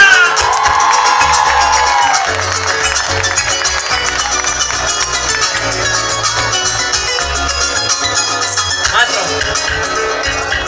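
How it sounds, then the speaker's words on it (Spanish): A festival crowd at a Colombian cultural performance cheers and applauds loudly for Colombia, with whoops and shouts over music with a steady low beat, continuous from start to finish. "¡Un aplauso para Colombia!"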